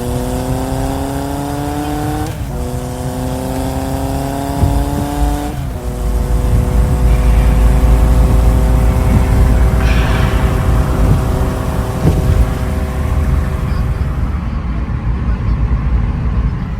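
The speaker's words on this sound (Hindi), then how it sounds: "यहाँ की ट्रैफिक बहुत स्लो है।" Slow Delhi traffic near India Gate rumbles up close, with engines droning, rising and shifting pitch under a continuous loud road noise.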